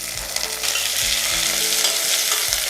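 Onions, mustard seeds, curry leaves and green chilli fry hot in coconut oil for a prawn curry, a continuous bright sizzle with soft spitting and faint stirring knocks, close and with no talk.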